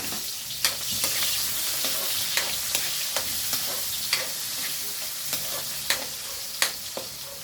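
Chicken intestines fry in hot oil with garlic, pepper and chili leaves, a continuous bright sizzle close by, broken by regular light taps and scrapes of a spatula stirring the pan.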